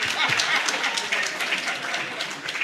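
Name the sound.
applause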